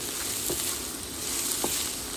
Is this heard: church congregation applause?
no